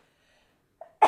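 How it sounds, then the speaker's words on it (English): A short sharp sneeze, preceded by a quick intake of breath, close by in an otherwise quiet space. "Sofrito sneeze."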